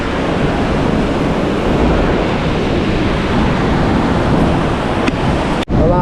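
Sea waves wash in near a row of resorts, one of them damaged, along a shore where boats can no longer land. A steady, close surf roar mixed with wind runs throughout, with a brief dip just before the end.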